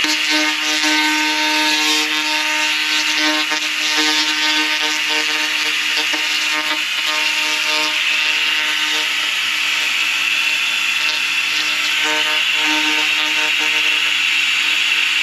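A laser cleaner strips rust from metal with a steady, loud, high-pitched buzzing hiss full of tonal whine, sustained without a break for about fifteen seconds.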